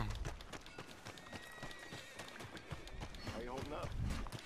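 Galloping hoofbeats thud rhythmically as a horse whinnies near the end, with a voice talking over the sound effects of Red Dead Redemption 2.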